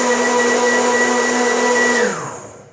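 A high-speed blender whirs steadily while blending coconut milk, its motor holding a constant whine before winding down at the end.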